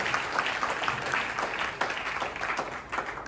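A crowd claps together at a motivational training event, a continuous brisk patter of many hands with slight swells, close and steady for the whole stretch, no talk on top.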